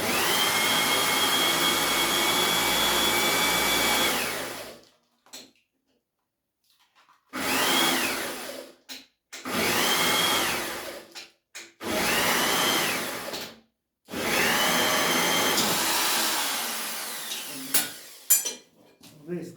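A homemade machine running with its 105 gearbox shifted into second gear, a steady loud mechanical whine and hum that stops and restarts in several runs separated by short silences, close up.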